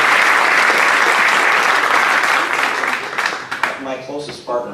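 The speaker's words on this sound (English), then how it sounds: "if you could give them a quick round of applause for all of them" An audience at a bill-signing ceremony with the governor of Vermont applauds in a loud, dense burst of clapping that fades over a few seconds as a voice starts speaking at the end.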